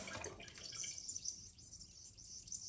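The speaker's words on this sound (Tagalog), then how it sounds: "Kaya pag umangat siya, tala yung sumisingaw na tubig." A toilet fill valve hisses steadily as water refills the tank, a continuous bright high hiss running the whole time at close range with no one talking.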